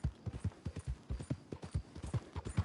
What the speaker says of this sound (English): I'd borrowed a friend's horse for the trip.